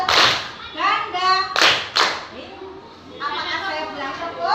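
A classroom group claps on command, alternating single claps with quick double claps in short, sharp bursts, while a teacher speaks between them.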